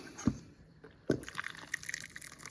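Gazpacho pours into a container with a couple of distinct liquid plops followed by a light trickling splash, close and soft, with no talk.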